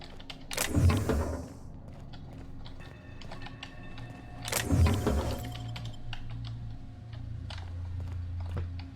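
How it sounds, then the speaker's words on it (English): Mechanical clunks in the video game The Outer Worlds, two loud metallic jangling bursts a few seconds apart, each followed by ringing tonal hum and faint clicks in between. "Why did it sound like I was unlocking something?"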